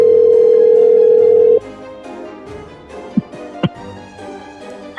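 Steady phone call tone while dialing someone, a loud continuous tone for about a second and a half, then a quiet line with faint background noise and a couple of brief clicks.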